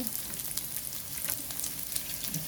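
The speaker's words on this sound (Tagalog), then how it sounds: "So, ilalagay ko na yung aking onion. Gisa lang natin konti." Onion sautéing in hot oil for binagoongang baboy, a steady close crackling sizzle with faint stirring, no speech over it.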